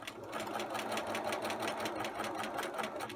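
A sewing machine stitching a self-lined patch pocket, its needle running in a fast, even mechanical chatter, close and continuous, with no voices.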